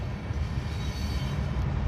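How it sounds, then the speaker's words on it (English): A short freight train rolls past on tracks near the Lachine Canal, a steady low rumble of wagons on rails with faint wheel squeal, fairly close and with no talking. "Oh, looks like it's a short freight train."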